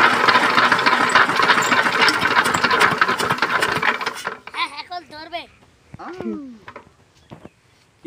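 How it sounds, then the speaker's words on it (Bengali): A machine's engine is cranked repeatedly with rapid mechanical clattering that does not catch, then stops; afterward a few faint scattered sounds and brief voices follow in a quieter space. "এখন আবারও চেষ্টা করব, দেখি মেশিনটা চালু দিতে পারি কিনা"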